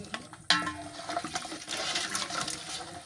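Water is poured into a hot pan of fish being cooked in a village kitchen, giving a sudden rushing splash that settles into a steady gurgling fill for a few seconds.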